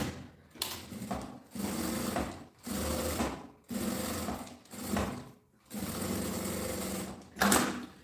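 A sewing machine stitches bias binding along the top edge of a handmade bag, running in short bursts of rapid whirring separated by brief pauses, close and fairly quiet.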